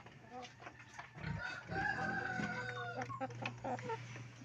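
Broiler hens in a backyard pen cluck and crow close by, their calls overlapping steadily over a low hum, with a faint voice in the background.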